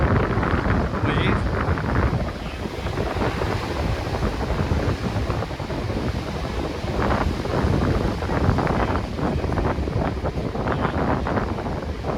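A sailboat in a distance race beats through small waves in strong wind, with constant heavy wind buffeting on the microphone and rushing water, steady and loud all the way through.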